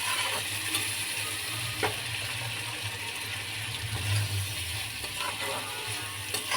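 Prawns in a butter masala with green chilli sizzle and are turned in a pan, giving a soft continuous frying hiss with occasional scraping strokes. The sound is fairly faint and even.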